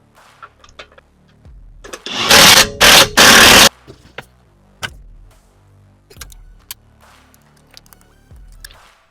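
A 15mm tool tightens the axle center bolt on a Mercedes-Benz E350 during a CV axle replacement, with two loud buzzing bursts of a power tool close by, followed by scattered metallic clicks and taps.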